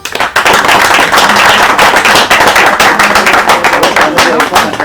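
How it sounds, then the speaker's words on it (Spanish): Audience applause at a narrative memory event, loud dense clapping from many hands, continuous and close. "Un aplauso."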